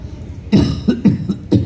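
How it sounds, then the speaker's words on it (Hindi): A burst of several harsh, close coughs in quick succession, loud and rough, with no talking around them. "मैं खांस रहा हूँ"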